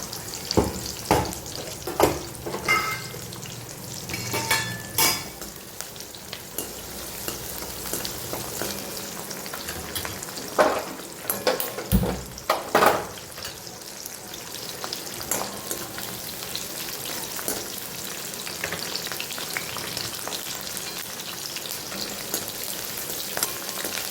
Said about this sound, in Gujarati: પછી એમાં જ બધા મસાલા તળી લઈશું.